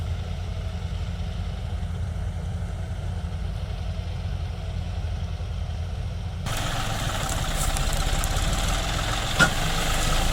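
A tractor engine runs on a farm during wheat work in a steady, low idling drone with a knocking rumble, growing louder and rougher partway through, with no voices.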